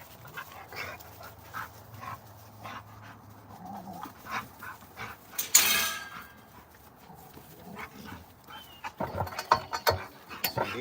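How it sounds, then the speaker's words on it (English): Several dogs bark and whine in excited bursts, loudest near the middle and again toward the end, over a quiet outdoor background. "See, these dogs, they're going crazy."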